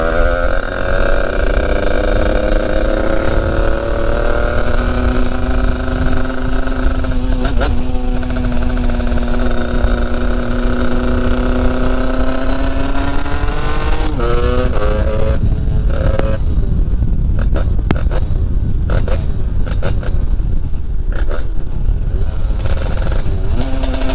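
A moped fitted with a KRM 70/80 exhaust, a 70cc setup, running loud and close, its engine note holding steady then rising and revving as it pulls away, with choppy bursts and throttle blips toward the end.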